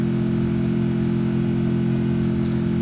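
A car engine in the Free Fire video game drones at an even, steady pitch for the whole stretch, loud and unchanging, with no talking.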